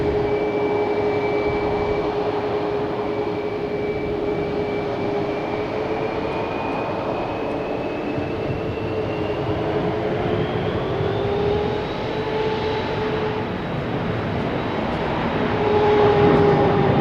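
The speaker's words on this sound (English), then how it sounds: "Is that American taking off, heading to Miami?" An American Airlines jet takes off for Miami at Boston Logan, a loud, sustained engine roar with a slowly rising whine, heard alone at a distance and swelling toward the end.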